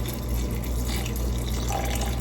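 Vinegar pours steadily over sliced cucumbers for an old-fashioned Southern cucumber salad, a continuous close splashing trickle with no talk.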